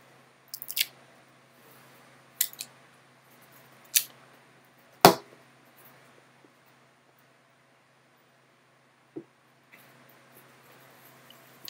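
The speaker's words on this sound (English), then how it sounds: "let me cut the cap off." An Arturo Fuente Don Carlos Lancero cigar has its cap cut off with a cutter, giving a few sharp isolated snips and clicks, close and crisp, with quiet gaps between them.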